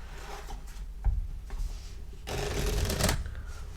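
A deck of animal oracle cards being shuffled by hand, a soft papery riffle and flutter that builds into a louder burst of rapid card slaps near the end, close up and alone.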